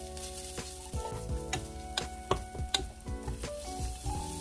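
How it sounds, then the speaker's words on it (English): Pepper powder is stirred into a pot of Korean soft-tofu stew, with irregular clinks and scrapes of a utensil over a soft sizzle and a faint background musical tone. "Add about 1 tablespoon of pepper powder and stir them well again."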